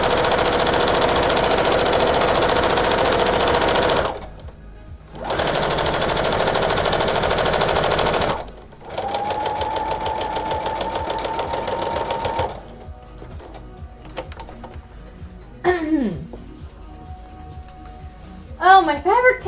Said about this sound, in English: Oh, my fabric tears!